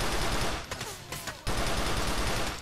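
Sustained automatic gunfire from the video game GTA The Lost and Damned, a dense, loud, continuous roar of rapid shots with a brief dip in the middle before resuming at full intensity.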